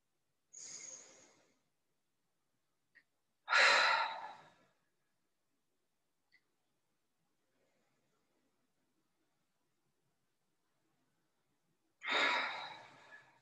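During a pranayama class a person breathes out audibly, giving three separate soft, breathy exhales spaced several seconds apart, with near silence between them and no talking.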